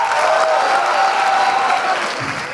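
Studio audience at a comedy show applauding a guest's arrival on stage, a full, loud burst of clapping with some crowd noise, steady and close, easing slightly toward the end.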